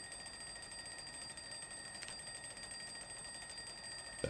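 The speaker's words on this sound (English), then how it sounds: "There's my alarms." An alarm goes off in Project Zomboid Build 42, a steady high electronic ringing held throughout at moderate level with a brief sharper burst near the middle, no speech over it.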